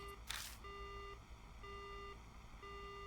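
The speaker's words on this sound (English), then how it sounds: "The phone goes dead." Dead phone line in the Spirit Hunter: Death Mark video game, a faint electronic tone pulsing on and off in steady half-second beeps, preceded by a brief burst of noise.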